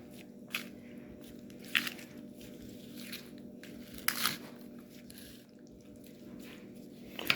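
Bacon being folded and stirred into a raw meatloaf mixture for smoking, soft wet squishing and sticky squelches with a few louder slaps, quiet and close, with no talk.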